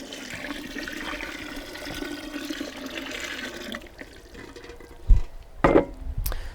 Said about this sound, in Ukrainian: І додаємо 10 літрів води.